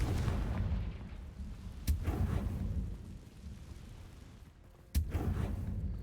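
Blasting spell from the Hogwarts Legacy video game: two sharp booming bursts, one near the two-second mark and a louder one near the end, over a rumbling, noisy game soundscape with no talk.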